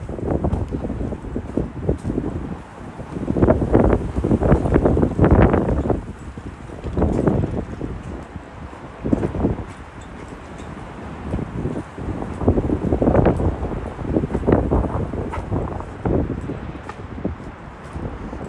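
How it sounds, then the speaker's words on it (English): Gusty wind buffets the microphone in uneven surges on a night walk in Brooklyn, New York, just after rain, rumbling low and loud throughout with brief lulls between stronger blasts. "Yeah, it's pretty windy."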